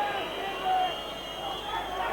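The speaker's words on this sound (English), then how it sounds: "a cacophony of boos echoing round Pittodrie Stadium" A football crowd booing at Pittodrie Stadium in Aberdeen during a UEFA Cup match against Dynamo Dresden, a steady distant drone of many voices that rolls on evenly without breaks.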